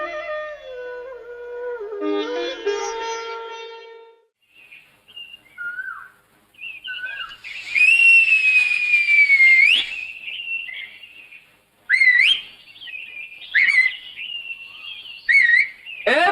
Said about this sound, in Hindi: अच्छा अच्छा, इसीलिए लड़कों जैसी सीटियां मार रही थी